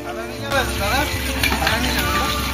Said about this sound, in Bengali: ওনারা এবার এটা গরম তেলে ফ্রাই করে আমাদেরকে দেবেন